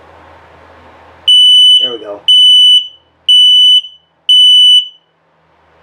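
Four loud, evenly spaced high electronic beeps from a nearby LP and carbon monoxide detector during a test in a 2020 Starcraft Autumn Ridge 32BHS camper, each about half a second long, with a brief voice speaking between the first two.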